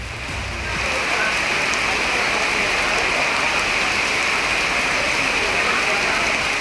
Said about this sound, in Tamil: காற்றுடன் 1/2 மணி நேரம் மிதமான மழை பெய்தது